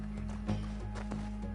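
In Red Dead Redemption 2, a horse gallops with a quick, even clatter of hoofbeats over a steady low game hum, moderately loud and close.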